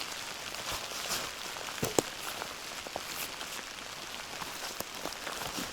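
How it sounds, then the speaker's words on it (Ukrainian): Rain falling in a forest during mushroom picking, a soft steady patter with scattered sharper drop hits, faint and continuous. "Дощ пішов."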